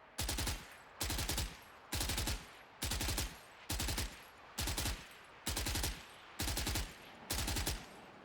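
Gunfire during aim-training practice in a shooting game, nine evenly spaced short bursts of rapid automatic shots, loud and close, separated by brief pauses in a steady rhythm.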